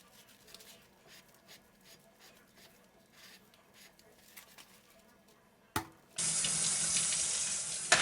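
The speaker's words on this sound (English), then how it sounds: "So the best thing to do is wash them with some warm soapy water, as you see me doing here" Tap water runs steadily into a sink as canning jars are washed in warm soapy water, a loud continuous stream starting after several seconds of quiet clinking and handling.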